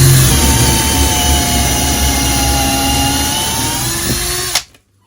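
A TOPSHAK 20V cordless drill driver whirs at its second speed setting, a loud steady motor whine with a rising tone that cuts off sharply just before the end, followed by near silence.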